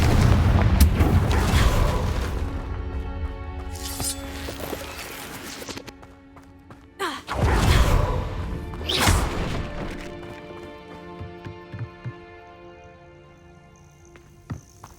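Booming blasts and crashing impacts from spells cast in a Hogwarts video game, with several loud bursts spaced a few seconds apart and fading debris noise between them.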